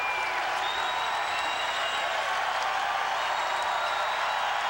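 A crowd at a college basketball game between Creighton and Indiana State at the Omaha Civic Auditorium roars in a continuous wash of cheering and clapping, loud and unbroken.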